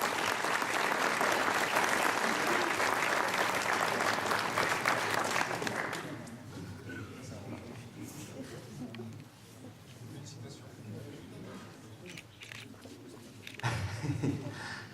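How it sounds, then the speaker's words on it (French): Audience applause for a vintage motorcycle enduro champion at a regional league awards event, loud sustained clapping from a hall crowd for about six seconds, then dying down to scattered claps under a voice talking. "vous pouvez l'applaudir bien fort, il est là dans la salle"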